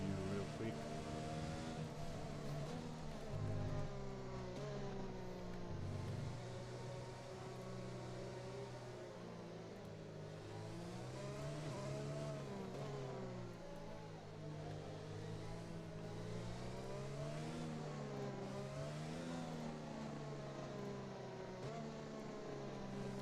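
Race car engines at Silverstone in a racing video game, a steady droning whine that rises and falls continuously, with a voice talking over it.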